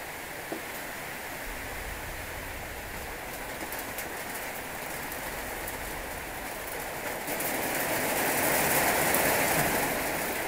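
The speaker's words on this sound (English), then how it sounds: "I love the sound of the rain on the roof when I'm dry." Steady tropical-storm rain patters on a house roof overhead in the Philippines, a dense hiss that swells louder toward the end, with occasional soft bird coos in the background.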